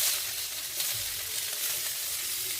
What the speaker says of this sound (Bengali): তেল দিয়ে পেঁয়াজগুলো ভাজা ভাজা করবো।